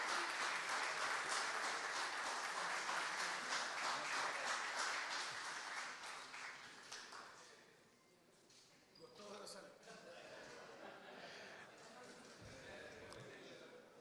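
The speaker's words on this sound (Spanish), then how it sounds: "Un aplauso al mérito de esta obra," Audience applause at a ceremony donating a portrait of Bernardo O'Higgins, loud sustained clapping that fades after several seconds into quieter room noise, with scattered claps and voices afterward.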